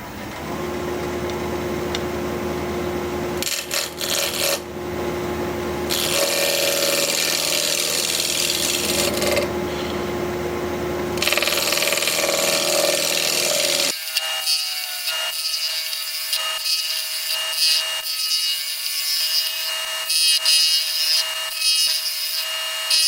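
A wood-turning lathe tool tapering a piece of koa wood, giving a steady, loud scraping and cutting rasp. The tone shifts to a thinner, brighter hiss partway through, with no voices.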